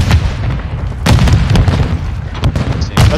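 A grenade goes off in Call of Duty: Modern Warfare 2 during a competitive match, heavy booming blasts with sharp cracks of gunfire layered over a loud, continuous rumble of battle.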